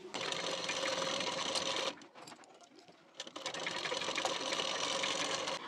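A sewing machine runs fast and steadily, stitching down a folded hook strip on a boat neck blouse, a close, continuous whirring rattle that pauses briefly in the middle before starting again.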